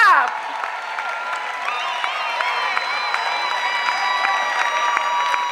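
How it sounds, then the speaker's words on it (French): Congregation in a church claps and cheers together in a lively burst, steady rhythmic clapping running throughout with some voices rising over it. "Acclamation. Clap."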